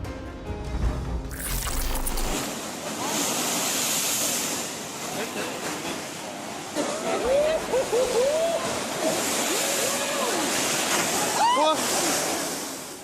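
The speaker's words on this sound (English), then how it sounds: "The fierce pounding of the waves damaged many coastal areas, affecting both infrastructure and residential zones." Heavy ocean waves pounding the shore at Surat during a tidal surge: a continuous loud roar of surf and sloshing water, with people's voices and shouts audible over the crashing water.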